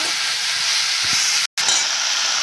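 Mudakathan (balloon vine) leaves sizzle steadily in a hot pan with a constant frying hiss, broken by one very brief silence midway.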